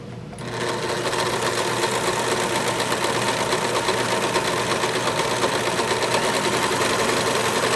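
A Brother serger stitches and trims the edge of a chiffon scarf, running at a steady, fast mechanical whir with a rapid repetitive clatter that starts abruptly and continues evenly throughout.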